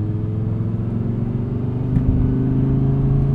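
The V10 engine of an Audi R8 V10 Performance Spyder (620 PS) revs smoothly, a loud close steady drone that swells and grows more forceful partway through.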